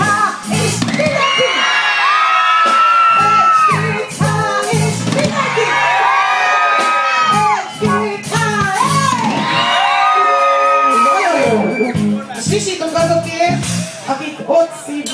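A large crowd at a concert in Újpalota screams together in loud, sustained, high-pitched waves, rising and falling in several surges with shouts and whoops mixed in.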